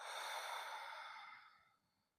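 A single deep, slow exhale taken as part of a breathing exercise, a soft airy breath close to the microphone that gradually trails off into silence, with no other sounds around it.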